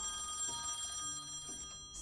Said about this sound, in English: So upset about that phone ringing.